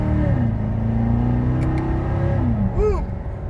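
A Corvette C7 Z51 engine revs and pulls hard, a steady loud close drone rising and falling in pitch with a brief higher swoop near the end, heard from inside the car.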